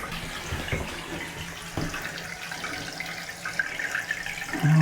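Water rushes steadily into the tank of a newly installed American Standard Vormax toilet after the supply line is opened, a continuous hissing, gurgling flow with a few faint knocks and no talk.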